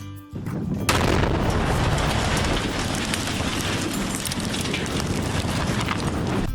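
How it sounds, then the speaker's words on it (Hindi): A structure is brought down by a demolition explosion: a sudden loud blast gives way to a heavy, sustained roaring rumble of collapsing debris that keeps going to the end. "बस एक धमाके के साथ पूरा का पूरा स्ट्रक्चर धूल में मिल जाता है।"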